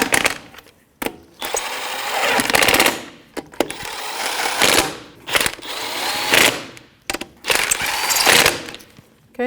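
A ratchet clicks in rapid bursts while snugging the lug nuts on a 2007-2017 Jeep Patriot 2.4L wheel with a 19 mm socket, several close, loud runs of fast ratcheting separated by brief pauses.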